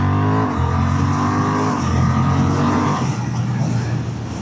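A 2026 Honda Hornet 750 with E-clutch ridden on a road, its engine note loud and near, steady drone shifting pitch as the rider changes gear under rushing wind.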